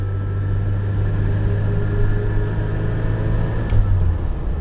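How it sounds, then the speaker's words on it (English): Steady low exhaust burble and engine drone from a 1986 Ford Aerostar winding out third gear, heard from inside as a continuous loud rumble without talk. "I love the exhaust note on this car"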